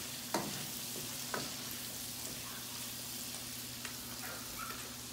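Garlic shrimp sizzle and fry steadily in a pan while a spoon stirs them, with a few sharp clinks against the pan over the constant hiss, close up and with no talking.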